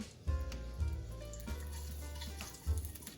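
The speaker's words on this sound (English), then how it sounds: "Here's sizzling." White asparagus sizzling and frying in a hot oiled pan, a steady crackle with a few louder bursts as pieces shift, close up.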